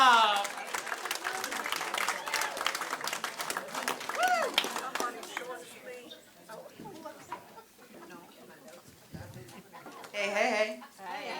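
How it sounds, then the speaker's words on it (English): Comedy club audience claps and cheers to welcome a stand-up comedian, a dense burst of applause that thins out, with voices talking over it and a brief swell of claps near the end. "Please give a warm round of applause for Teresa Nordhoff"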